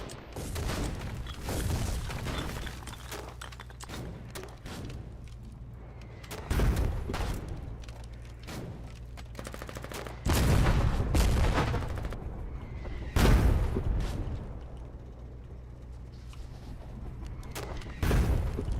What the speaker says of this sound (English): I think they're getting fucked up by these howitzers, honestly.